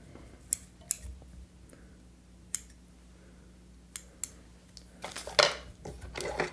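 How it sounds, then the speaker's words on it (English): A few sharp scissor snips trimming yarn while tying a purple Chubby Chernobyl fly, isolated clicks spaced apart, then a denser flurry of snips and handling near the end, close and fairly quiet. "I'm going to trim this yarn. So I'm going to make a cut"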